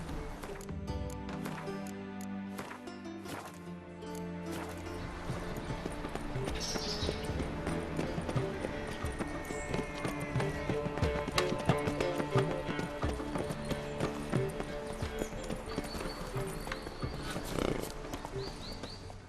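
A horse gallops in the video game The Witcher 3: Wild Hunt. Rhythmic clip-clop hoofbeats run steadily throughout, with busy game ambience and music beneath.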